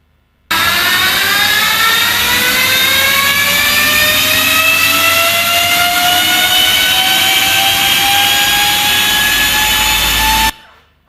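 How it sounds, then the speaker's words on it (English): Ultraviolette F77 electric motorcycle giving a loud, steady jet-like turbine whine whose high tones slowly rise in pitch over about ten seconds, cutting off abruptly, with no talk over it. "the sound you just heard is the actual sound of the F77 motorcycle."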